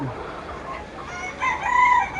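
Chickens (backyard laying hens) cluck and call faintly in the background, with a rooster-like crow rising near the end amid ambient outdoor noise.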